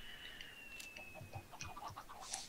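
Clucking chickens in the video game Minecraft, several short, moderately faint clucks scattered across a couple of seconds over a soft background tone, with no talk.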